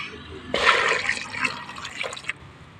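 Water is poured from a jug onto a freshly planted sapling, making a short, splashing gush that lasts under two seconds before trailing off into drips.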